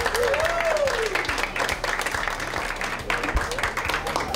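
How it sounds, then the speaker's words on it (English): A crowd applauds the Liverpool Masters football team at an event in Brunei, dense clapping with scattered louder claps and a rising whistle near the start, steady throughout. "Let's give them a big applause."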